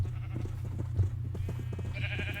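Blocky sheep in Minecraft bleat as they are herded through a pen, their calls repeated over a steady low in-game hum, with a brighter sustained tone rising near the end.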